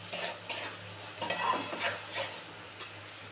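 A spoon stirs whipped sour yogurt masala in a pan for fish kalia, rhythmic scraping strokes over a faint sizzle and low steady hum, close and quiet, no speech.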